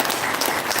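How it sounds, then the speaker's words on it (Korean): Brief burst of dense, steady clapping from a seated audience at a Korean vision concert lecture, loud and close, filling the whole moment with no break. "다들 박수를 한번 준비해보세요. 박수."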